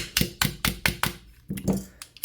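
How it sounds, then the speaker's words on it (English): A steel mainspring housing pin on a Staccato HD P4.5 pistol is driven home with a run of sharp hammer smacks, about eight close, loud metallic taps in two quick bursts with no talking. "smack your mainspring housing pin through"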